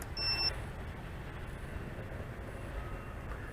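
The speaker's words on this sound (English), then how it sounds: "It'll go into the pre-alarm stage where it's beeping at a low volume" A VIFLY Finder drone buzzer in its pre-alarm stage gives a short, quiet high-pitched beep near the start, with faint repeats after, alone over steady background hiss.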